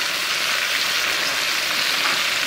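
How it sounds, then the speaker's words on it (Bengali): A Katla fish head frying in hot oil gives a loud, dense, unbroken sizzle, close up and constant, with no voices over it. "কাতলা মাছের মাথা ভাজি ডালে দেওয়ার জন্য"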